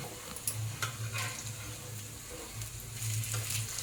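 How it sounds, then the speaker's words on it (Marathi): Baby shrimp patties fry in hot oil with a steady, soft sizzle and crackle that runs throughout, alone with no talking. "आता आपल्याला 5 मिनिट त्याला चांगलं तेलामध्ये भाजून घ्यायचं आहे"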